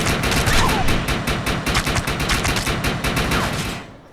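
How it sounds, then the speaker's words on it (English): Assault rifle fire in the shooter Defiance, a long, steady, rapid automatic stream of loud close shots that runs almost unbroken for several seconds before cutting off. "So let's go ahead and switch over to my assault rifle."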